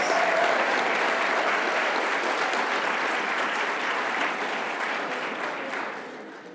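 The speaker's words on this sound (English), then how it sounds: "Let's give a round of applause to our 25-year honorees." An awards ceremony crowd applauds 25-year employee honorees at the 2022 Knight Star Awards, steady, dense clapping that holds strong for about six seconds and fades slightly at the end, with no talking.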